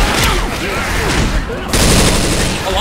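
Dense bursts of gunfire from weapons in the shooter game Left 4 Dead 2, rapid overlapping shots with a brief dip before a louder sustained volley.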